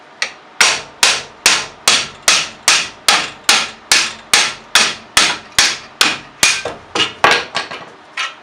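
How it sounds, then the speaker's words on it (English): Steady metal hammer blows on a BMW E36 front brake caliper ring out one after another, about two per second, loud and close, around twenty strikes in all. "don't be afraid to use the hammer."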